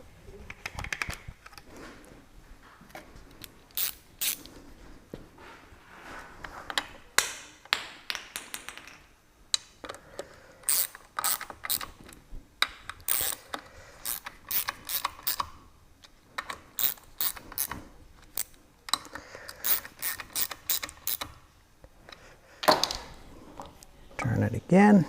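Ratchet clicking in short bursts as the four water pump housing bolts are tightened on a 40 HP Mercury outboard motor, close and fairly quiet, with pauses between strokes and light tool handling around it.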